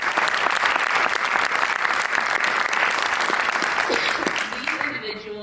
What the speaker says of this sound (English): Can we quickly give them a round of applause?